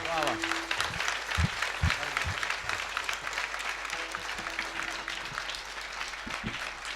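Audience clapping during a kirtan at an akhand harinam saptah in Sukni, a dense steady patter of many hands running throughout, with a few louder knocks and voices mixed underneath.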